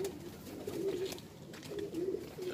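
Punjabi pigeons coo softly in a few low, rolling phrases, fairly near but quiet, with no voices over them.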